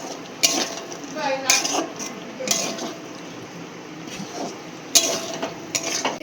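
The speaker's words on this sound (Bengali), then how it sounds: "এই যে মেটের সাথে মশলাটা ভালো করে কষিয়ে নিয়েছি" Goat liver and masala fry in a pan for mete chorchori, with repeated metal spatula scrapes and clanks against the pan over a low sizzle, close and fairly loud.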